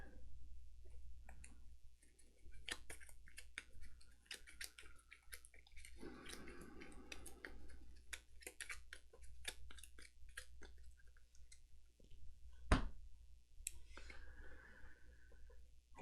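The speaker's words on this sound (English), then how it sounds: "Shuffle this enemy deck real quick." A deck of enemy cards is shuffled by hand for the board game Gloomhaven, with soft, quiet riffling and papery clicks close by and a brief louder snap near the end.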